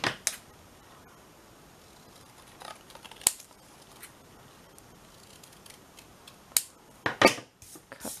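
Scissors snip through paper card for a pocket folio craft, giving a few sharp, isolated cuts close by against a quiet room, with a short cluster of snips near the end.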